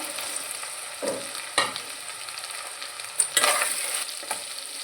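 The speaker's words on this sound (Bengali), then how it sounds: "তো আমি এবার দিয়ে দেবো কেটে রাখা টমেটোগুলো" Chopped tomatoes dropped into a hot pan of oil for a potato and pea curry, frying with a steady close sizzle and a few louder stirring scrapes.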